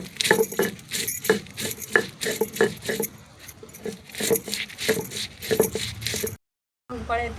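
Amti masala with roasted onion is ground by hand on a stone slab, giving a steady rhythm of clacking, scraping strokes about twice a second, close and fairly loud, before a brief pause near the end.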